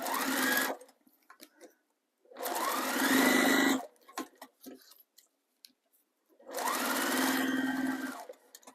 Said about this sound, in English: I'm just going to sew close to my zipper teeth